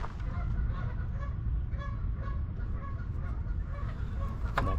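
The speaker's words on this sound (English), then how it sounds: "Geese are very vocal." Geese honking repeatedly during an outdoor litter pick in Calgary, a chorus of loud, overlapping calls over steady outdoor background noise.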